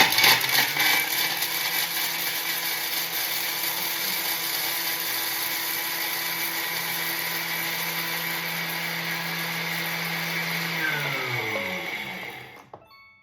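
A Thermomix kitchen machine grates an ingredient for mushroom risotto, a steady loud high-pitched motor whir running alone for about twelve seconds before winding down and stopping abruptly.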